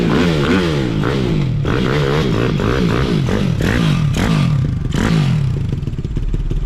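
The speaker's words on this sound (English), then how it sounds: "the engine on his BMX" A motorized BMX bike's small engine runs loud and close on a live stage, its buzzing rising and falling in repeated revs with clattering and knocking mixed in, and no talk.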